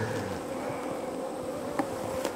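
Honeybees drone in a queenless hive with laying workers, producing a steady close buzz with a constant pitch and no pauses. No voices are heard.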